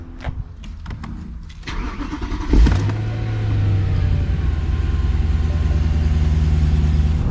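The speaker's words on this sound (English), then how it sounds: "go ahead and warm the car up and give it our first test spin" A 2011 BMW E93 M3 is cranked after a few clicks and knocks, catches with a loud flare, then settles into a steady, close, rumbling idle while it warms up.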